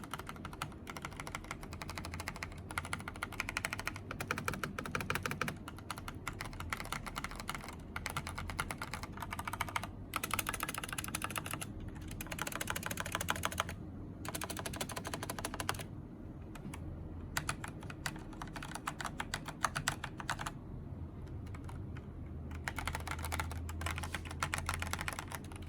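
Rapid typing on a mechanical keyboard fitted with Razer Phantom keycaps and O-rings, dense clacky keystrokes in irregular bursts with brief pauses, close and clear with no talking.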